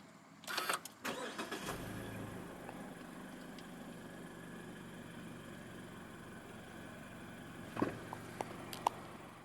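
A 2018 Mazda CX-5 2.0 SkyActiv-G push-button start: the engine cranks and catches after a brief whir, then settles into a quiet, steady idle, with a few faint clicks near the end.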